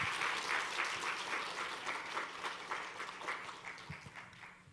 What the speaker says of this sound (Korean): 우리 포이에마 찬양단에게도 큰 박수로 인사하겠습니다